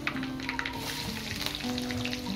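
Large mustard seeds and curry leaves frying in hot oil as the tempering for coriander kuzhambu, with a close, continuous sizzle dotted with small pops and crackles.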